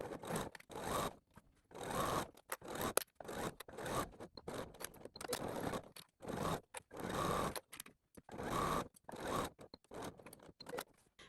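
A sewing machine stitches the seams of a boxed zip pouch, joining pinned main and lining fabric pieces, in a series of short mechanical bursts separated by brief pauses, close and steady with no talking.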